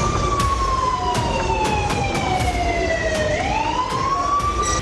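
A loud civil defence mock drill siren wails continuously, its pitch slowly falling and then rising again, with a steady rumble of traffic beneath it throughout.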